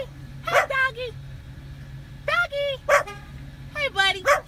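Dog barking near a dumpster, three separate clusters of sharp, close barks with yips between them, loud over a low steady engine hum.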